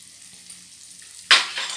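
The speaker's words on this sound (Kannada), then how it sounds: "ಈಗ ಕ್ಯಾಬೇಜ್ ಹಾಕ್ತೀನಿ." Chopped cabbage dropped into a hot pan for vathani poha gives a sudden loud sizzle that holds on as steady frying after a quiet start with a soft low hum.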